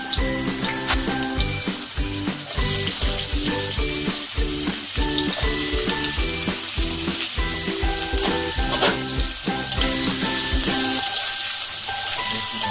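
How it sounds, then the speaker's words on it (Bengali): Potatoes fry in hot oil in a wok for a Bengali vegetable bhuna, a loud continuous sizzle close by, with rhythmic clanks and scrapes from stirring all the way through. "আলু দিচ্ছি প্রথমে, আলুটাকে একটু ভেজে নিয়ে তারপরে দেবো বাকি সবজিগুলো"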